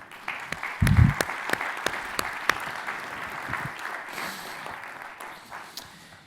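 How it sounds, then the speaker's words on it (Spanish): An audience at a pensions debate applauds a panelist with scattered, distinct claps at moderate distance, plus a brief low thump near the start, and the clapping thins toward the end. "le brindemos un aplauso"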